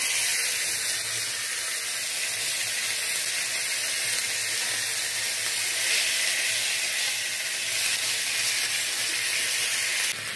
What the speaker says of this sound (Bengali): এর মধ্যে আমি আরেক চামচ আদা রসুন বাটা দিয়ে দিলাম।